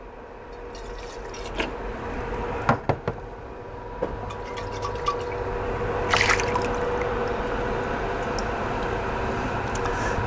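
Water is poured into a glass orchid flask to loosen the plants, with soft filling and dripping over about ten seconds, punctuated by a few sharp knocks and clinks of the container, close and fairly quiet.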